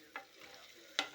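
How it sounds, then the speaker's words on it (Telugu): Onion, ginger, green chilies and drumstick pieces cooking in oil, with a soft steady sizzle broken by two brief stirring scrapes, near and fairly quiet, no talking. "ఉల్లిగడ్డ, అల్లిగడ్డ, పచ్చిమిర్చి, మునక్కాయలు అన్నీ ఆయిల్లో మగ్గినాయండి"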